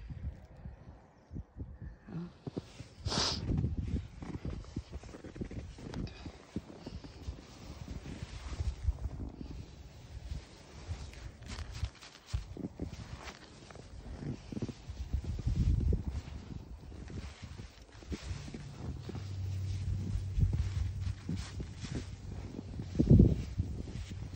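Gusty wind buffets the microphone in a steady low roar with rustling surges, rising and falling across the whole stretch.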